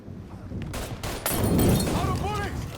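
Gunshots and combat noise from the video game Mafia III, a few sharp reports over a busy, rumbling background with a game voice speaking partway through.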